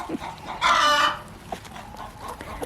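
Chickens, including young junior birds, cluck and squawk while being tossed leafy garden greens as treats, with a loud burst of overlapping calls followed by scattered softer clucks nearby.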